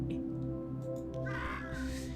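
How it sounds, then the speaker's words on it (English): Crows caw repeatedly in the Monument Valley puzzle game, harsh calls recurring over a steady background music bed, with no talking. "These stupid crows keep barking at me."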